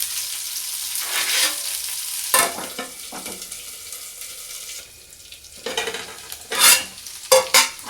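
Okra (bhindi) frying in a pan while being stirred with a utensil, giving bursts of sizzling and scraping that come and go, with sharp clinks of the spoon against the pan and quieter pauses between.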